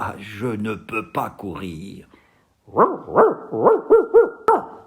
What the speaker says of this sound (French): C'était le chien de garde qui aboyait.